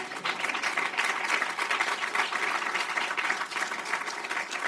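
Audience applause at a screening event on racial bias in home appraisals, steady dense clapping sustained throughout at even loudness, with no voices over it.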